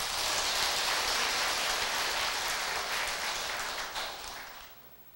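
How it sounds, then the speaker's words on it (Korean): A temple audience at a Buddhist dharma talk gives a long, dense round of applause, many hands clapping in a steady wash that holds for several seconds and then tapers off to quiet. "우리 모두 고마운 박수 한번 보냈으면 합니다."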